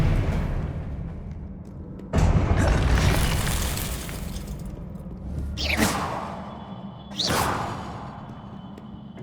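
An Expelliarmus spell goes off in the Hogwarts Legacy video game as a sudden loud whooshing burst, followed by two sharper swishing hits a few seconds later, over a low ambient game background.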